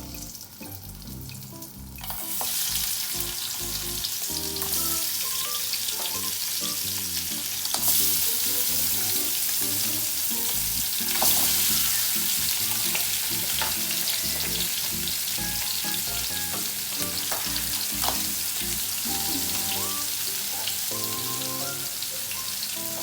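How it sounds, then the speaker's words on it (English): Crab dropped into hot coconut oil sets off a sudden loud, dense sizzle that keeps up as steady crackling spatter for a long stretch, close up and with no talking. "The crab literally moved for a second in the burning hot oil."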